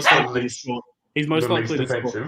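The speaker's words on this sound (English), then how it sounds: "Sorry, that was my dog." A pet dog named Maple barks a few times in the background while a man's speech runs over it.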